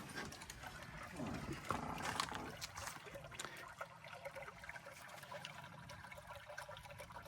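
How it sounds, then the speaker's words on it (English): Babbling pond water trickles steadily outdoors on a quiet night beside a horse trailer camper, a soft continuous wash with a few brighter splashes early on. "all you hear is the babbling pond"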